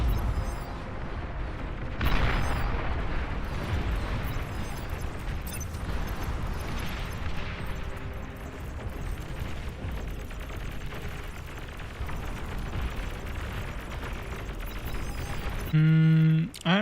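A video game weapon fires without pause, a continuous roar of booming shots and explosions under steady commentary, broken near the end by a short tonal game cue.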